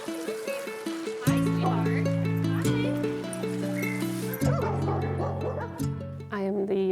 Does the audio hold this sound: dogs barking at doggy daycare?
yes